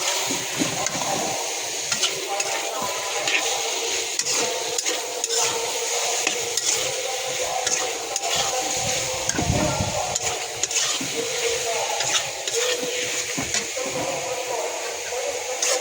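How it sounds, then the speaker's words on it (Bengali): A spoon stirs and scrapes pointed gourd (potol) through masala in a pan, with steady sizzling frying and occasional louder scrapes against the metal, continuing throughout. "মশলার ভিতরে একটু উল্টায় পাল্টায় নিতেছি।"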